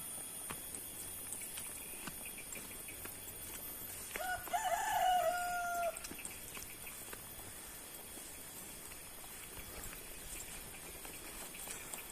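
A rooster crows once, clear and at moderate distance, over a quiet village backdrop near rice-field hills, with faint chicken clucks and light ambient noise around it.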